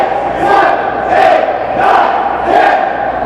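A wrestling crowd cheers loudly and continuously, with roaring swells that rise and fall in a steady rhythm, near and dense, without talk.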